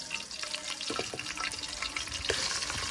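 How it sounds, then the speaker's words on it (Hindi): Masala fish frying in a pan, giving a steady, dense sizzle and bubbling hiss throughout with a few faint clicks of movement, close by and unbroken, with no talking. "देखें माशाल्लाह कितनी ही मज़े की फ्राइड हो रही है हमारी फिश"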